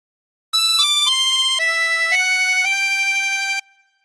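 A phrase of the Star Spangled Banner played on a chromatic harmonica, a run of about seven clear sustained notes stepping mostly downward, bright and close, then stopping abruptly.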